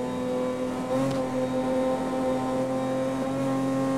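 A car engine held at full throttle in Need for Speed: Most Wanted, droning at a steady high pitch without any break in its sustained roar, with a brief surge near the second mark.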